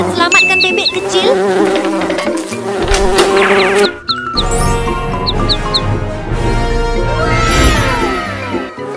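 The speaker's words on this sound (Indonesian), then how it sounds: "Oh tidak, bebek kecil diserang lebah." Cartoon bees swarm and attack a duckling with loud, steady buzzing, layered over bright music-like tones and chime-like pings throughout.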